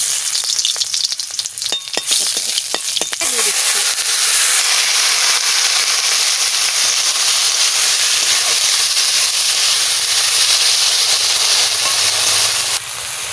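Greens with chilli and garlic fry loudly in a hot pan, a dense steady sizzle and hiss lasting throughout, close up, with a few clatters of stirring near the start and no talk.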